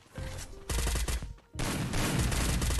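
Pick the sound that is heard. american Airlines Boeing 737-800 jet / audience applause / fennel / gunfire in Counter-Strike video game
gunfire in Counter-Strike video game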